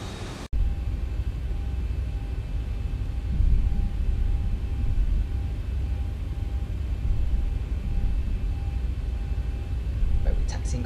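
Boeing 737-600 jet in the X-Plane 11 flight simulator taxiing slowly, a steady broadband engine rumble with a faint whine running throughout, loud and continuous.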